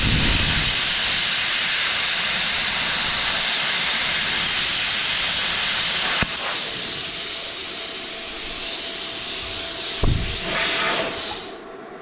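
An Arccaptain Cut 55 plasma cutter slices a circle in metal, giving a steady loud hiss with a brief pop midway and a flare near the end before the arc cuts off.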